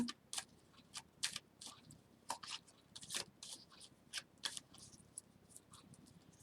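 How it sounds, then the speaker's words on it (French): Tarot cards shuffled by hand at close range, with quiet, irregular crisp flicks and soft riffling taps in a series of short bursts and no voice over them. "Je mélange les cartes."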